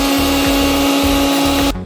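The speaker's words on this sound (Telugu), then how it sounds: "ఫస్ట్ ఇవి ధనియాలు, ఆవాలు, మెంతులు మిక్సీ పట్టుకోవాలి మెత్తగా" A mixer grinder grinds coriander seeds, mustard and fenugreek for ginger pickle, giving a loud, steady motor whine with a pulsing, churning low rumble for nearly two seconds before it cuts off.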